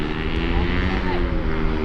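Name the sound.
BMW M4 Competition G82 engine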